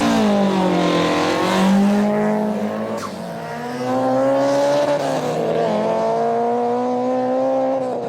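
Formula Drift race cars at a 2005 event, engines revving hard with rising and falling pitch as they slide through a drift, tires squealing under a loud continuous roar.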